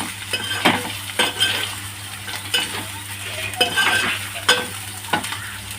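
Chicken fries in a pan with spice paste while a spoon stirs it, a steady close sizzle punctuated by regular scraping strokes and light clinks of the utensil against the pan, with no voices.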